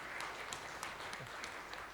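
A conference audience gives a short, steady round of applause at a closing session on insolvency and bankruptcy research, the clapping dense and moderately distant without a break.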